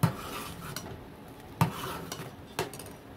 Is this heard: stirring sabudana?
yes